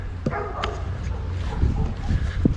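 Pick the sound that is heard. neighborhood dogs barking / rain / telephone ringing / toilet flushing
neighborhood dogs barking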